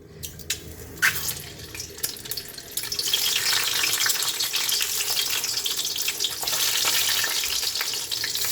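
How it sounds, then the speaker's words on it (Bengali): Halved boiled eggs frying in hot oil in a wok: a few quiet clicks and pops, then a loud, steady sizzle that swells after the eggs go in and continues close up. "ডিম সিদ্ধটাকে ভেজে নেবো আমরা"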